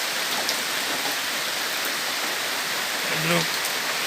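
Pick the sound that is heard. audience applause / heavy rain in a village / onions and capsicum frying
heavy rain in a village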